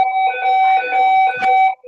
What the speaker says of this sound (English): So we have a fire alarm here.